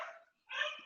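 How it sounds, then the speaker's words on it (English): Several dogs barking at home in two bursts with a short gap between, close and fairly loud, yapping barks and whines. "sorry, if you hear my dogs barking"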